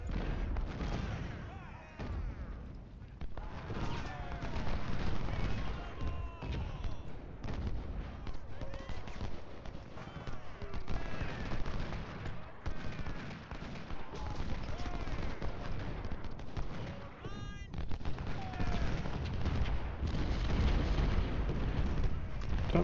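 In the Civil War strategy game Ultimate General: Civil War, massed musket volleys and booming artillery rumble continuously, with dense crackling fire and heavy thuds throughout. Someone talks over the battle noise.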